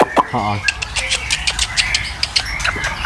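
Rapid bright chirps and trills from a golden shrike repeat throughout, with brief clucking notes early on over a noisy background.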